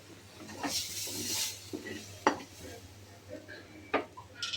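A spoon stirring spice paste into aloo biryani rice in a pot, giving soft scraping and a few sharp metallic clinks at irregular moments against a low steady hum.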